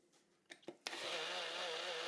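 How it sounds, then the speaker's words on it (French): A blender whirs into a loud, steady roar for a red ginseng iced latte after a few short knocks and clicks, sustaining at even volume to the end with no talk. "Pour faire un ice latte au ginseng rouge, mettez la même dose que le latte au ginseng rouge dans le mixeur. Mixez."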